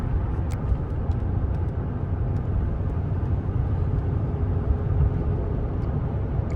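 A 2018 Toyota Tundra SR5 pickup cruising on the road, its steady broadband engine and road rumble holding constant and fairly loud throughout with no talk over it.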